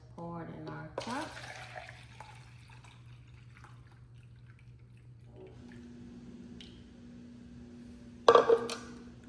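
Homemade watermelon rind juice is poured into a cup: a faint, quiet trickle and a few drips, ending in a brief louder clatter.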